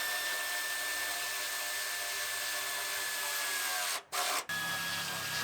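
Power tool tightening bolts on the frame rail of a wrecked Grand Am SCT being rebuilt in a driveway, a steady high whine running continuously with two brief dropouts near the end.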